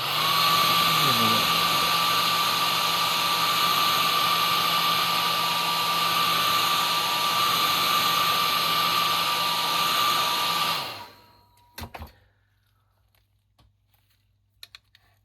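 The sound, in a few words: hair dryer blowing on model tank car weathering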